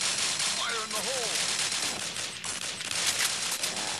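Dense gunfire from the Vietnamese online shooter Đột Kích during a clan friendly match, with a sniper shot among continuous overlapping shots and game effects that stay busy and loud throughout, plus faint chirping tones early on.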